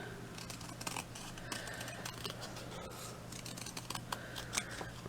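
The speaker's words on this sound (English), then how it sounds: "I'm going to trim it into a ovalish type of shape." Scissors snip steadily around a beaded pearl and diamante picture, trimming it into an oval, with a run of soft close cuts and paper rustle and no voices.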